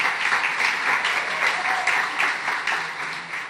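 Dense, steady audience applause at a book launch event, many hands clapping together in a continuous wash that holds evenly throughout.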